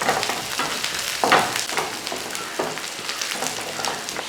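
Shallots, dried red chillies and curry leaves tempering in hot oil for a Kerala duck curry, a loud close crackling sizzle with spitting pops throughout, one sharper burst near the middle.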